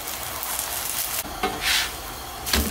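Mhajeb dough fries and browns in a pan with a steady, close sizzle throughout, broken by a few brief flares of louder hissing.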